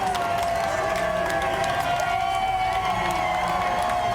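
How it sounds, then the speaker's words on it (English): A loud, dense crowd roars and cheers continuously at the United Conservative Party election night headquarters in the Big Four building as a majority win is called, a packed indoor celebration with steady whooping. "this crowd was loud already before this. It just got a whole lot louder as CTV declares that the United Conservative Party has won a majority again"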